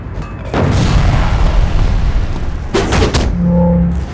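Grenades burst in the City of Heroes video game: a loud booming blast rumbles out, followed by a second sharp explosion a few seconds later.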